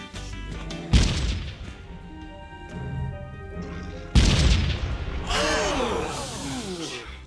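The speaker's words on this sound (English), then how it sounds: "why do the dandelions have a firing cannon as an attack sound" Dandelion enemies in an MMO video game fire a cannon-like attack sound effect, giving two deep booming blasts a few seconds apart, each followed by a ringing, clattering tail over a steady music bed.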